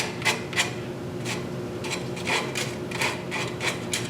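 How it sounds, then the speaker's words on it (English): Slow, repeated rasping strokes of sandpaper on a wooden scoop, about a dozen scrubs in an uneven rhythm, close up with no speech. "there's a lot of hand sanding here to make this look really nice"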